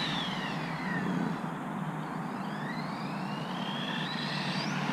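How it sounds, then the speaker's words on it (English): An Outcast 4S RC truck on Scorpion belted tires runs at full throttle, its electric motor giving a steady high whine that sweeps up and down in pitch as it speeds past, over a constant rushing noise. "Try to see if I can get up to full throttle."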